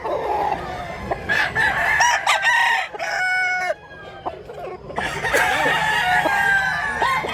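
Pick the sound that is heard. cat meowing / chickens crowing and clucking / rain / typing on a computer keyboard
chickens crowing and clucking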